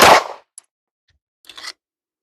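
A Sig P365 X Macro pistol fitted with an Icarus Precision frame fires one loud, sharp shot at the start, then a faint click and a short, quieter crack follow after a pause.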